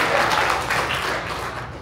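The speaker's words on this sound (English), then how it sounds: "Yeah, you clapping." Audience clapping at a stand-up comedy show, a steady wash of many hands applauding throughout at an even, moderately loud level, with no voices on top.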